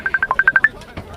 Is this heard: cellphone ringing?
yes